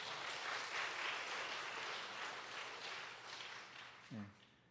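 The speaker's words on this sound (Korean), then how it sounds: "우리 박수 한번 보낼까요?" Dense applause from a church congregation, fairly soft and sustained, fading slightly toward the end with a brief voice at the close.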